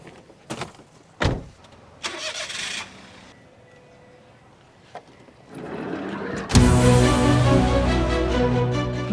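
A car's door and window sounds come first as several sharp clunks and clicks, then a broad noise rises and its engine catches and keeps running loudly to the end.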